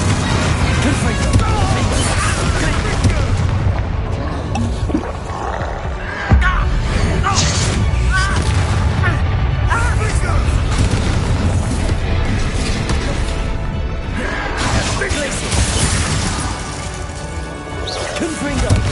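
Confringo spell blasts in the Hogwarts Legacy video game land as repeated deep booms and crashes within a loud, continuous wash of combat noise and music. Spell names are called out over it.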